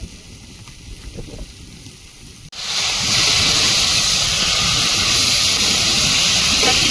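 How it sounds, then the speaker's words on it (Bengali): Strong wind blows outdoors during a rain shower near a home. It starts as a softer rustle, then jumps suddenly into a loud, steady roar of gusts buffeting the microphone. "ও বাবা হাওয়া হচ্ছে"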